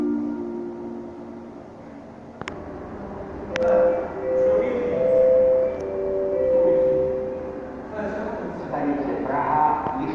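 A train departs Praha-Vysočany station after a sharp click, with a rising electric motor whine and rumble, then a tonal hum building close by as it pulls away; no talking.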